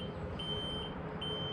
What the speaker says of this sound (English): right now it's beeping at me telling me that it's full